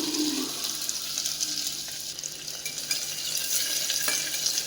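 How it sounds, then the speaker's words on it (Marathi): Finely chopped onion added to hot oil with bloomed cumin, sautéing with a dense, bright hiss that stays steady and close, without speech. "तर आता जिरं मस्त फुललं की यामध्ये बारीक चिरलेला कांदा घालून घेऊयात आपण"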